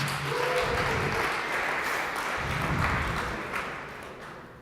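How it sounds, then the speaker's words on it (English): An audience at the TechChill 2019 startup event claps in sustained, dense applause that gradually fades toward the end, with faint crowd murmur underneath. "Give a huge round of applause for Drone Pilots."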